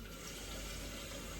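Water pouring from a tap into a small pan of tomato juice on the stove, a steady close rushing stream with no break and no talking.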